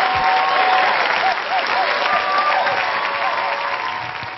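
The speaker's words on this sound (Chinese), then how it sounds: "3、2、1，掌声有请" Audience in a TV studio applauding, a burst of dense clapping that stays strong, then eases off slightly toward the end.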